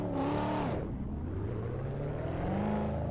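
A Corvette engine in the Assetto Corsa racing game, a steady engine drone that dips in pitch then slowly climbs again as the car accelerates, continuous and moderately loud.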